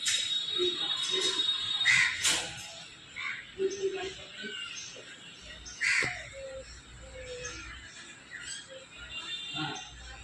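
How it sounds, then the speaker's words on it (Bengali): A crow chick and a koel chick raised together call outdoors, harsh caws and shriller cries repeating at intervals over faint ambient birdsong and insect noise. "কাগের বাচ্চা আর কোকিলের বাচ্চা দুটো একসাথে দুটো একসাথে বড় হচ্ছে"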